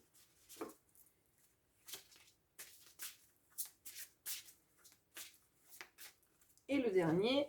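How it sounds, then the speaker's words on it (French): Oracle cards are shuffled by hand in a string of short, quiet riffles and taps, spaced irregularly and close up, before a brief louder voice-like burst at the end. "On va mélanger aussi un petit peu l'oracle des vies antérieures."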